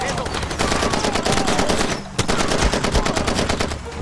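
Rapid bursts of machine-gun and rifle fire in the video game Far Cry 2, loud and continuous with a brief lull midway before the shooting resumes, with faint voice in the background.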